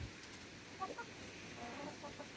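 A rooster and hens in a backyard coop give a few soft, faint clucks over a low steady background, with several brief calls clustered near the end.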